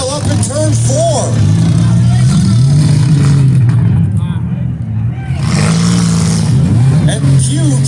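Autocross cars at a youth fall cleanup demolition derby event, one pulling away after a spin and pile-up in turn 4; engine drone runs steadily beneath continuous loud commentary from an announcer.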